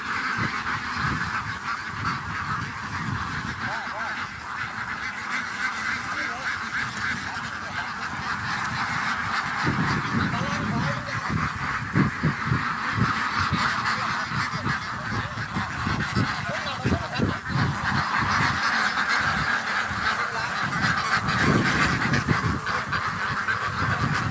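A large flock of ducks being rounded up on a Thai duck farm in Isan, producing loud, dense, continuous quacking and honking that carries steadily from start to finish.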